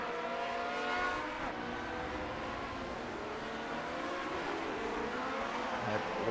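Vintage Grand Prix race cars in the Grand Prix Legends sim at Circuit Gilles Villeneuve, engines droning and shifting with a whiny harmonic buzz as two cars jostle under braking into a corner, steady and fairly loud throughout.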